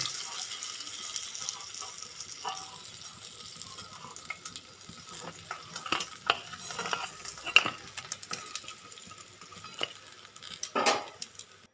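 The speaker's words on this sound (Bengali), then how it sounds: "এখানে মাছের মাথাগুলো খুব সুন্দর লাল লাল করে ভাজা হয়ে গেছে" Fish heads fry in oil in a pan, a quiet sizzle beneath repeated scraping and clinking of a spatula as they are stirred and turned, with a few louder knocks toward the end.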